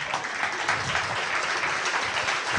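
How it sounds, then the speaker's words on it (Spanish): A church congregation applauds at an evening service, with a broad, fairly soft wash of many hands clapping steadily and evenly throughout. "Dele un aplauso al Señor por los milagros que vamos a ver aquí esta noche."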